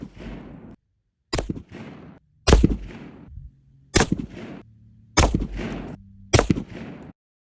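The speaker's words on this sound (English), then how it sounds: "these are just some random shots with that ammo just to see what it did" A rifle fires six loud, close shots at an outdoor shooting range, spaced about a second apart, each sharp crack followed by a brief echoing decay and then silence.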